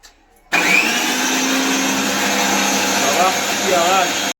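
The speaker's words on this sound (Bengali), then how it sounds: "এই যে মিক্সার মেশিন" An electric mixer grinder making paste in a home kitchen switches on abruptly after a brief quiet and runs with a loud, steady, high whine, with a voice faintly audible over it near the end.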